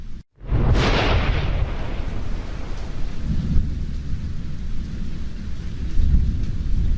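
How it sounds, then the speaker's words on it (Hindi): A loud thunder crack opens, followed by a deep rumbling roll under heavy, steady rain pouring down, with the storm staying close and constant throughout. "तभी तेज बारिश होने लगती है।"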